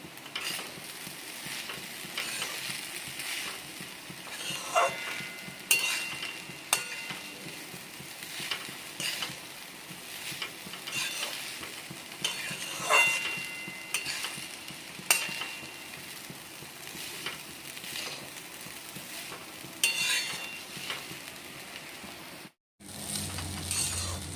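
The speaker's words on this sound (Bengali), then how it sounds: "একটু হালকা হালকা লাল লাল করে ভেজে নেব" Flattened rice (chire) for a pulao fries in a pan while a spatula stirs and scrapes it, giving a steady sizzle broken by repeated metallic clinks, close by, with no voices, until a brief cut near the end.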